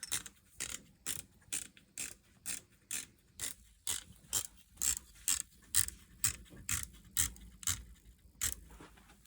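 An archery sight being wound fully in gives a steady train of about twenty sharp mechanical clicks, evenly spaced like a ratchet, close and fairly quiet with nothing else around them.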